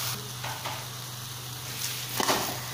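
Carrots are stirred into thickened milk for gajar ka halwa over a low flame. Soft stirring strokes and a gentle simmering sizzle play close, with a firmer scrape near the end and no talking.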